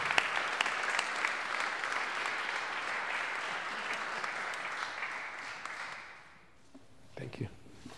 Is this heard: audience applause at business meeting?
yes